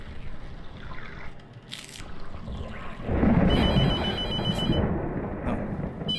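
A telephone rings in the horror game The Mortuary Assistant, with a high repeating electronic ring over a low rumbling, stormy ambient bed.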